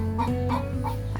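Chickens in a backyard coop squawk and cluck in short repeated bursts, close and fairly loud, with no voices over them.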